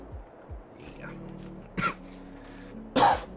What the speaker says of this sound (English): You'll have to excuse my coughing and spluttering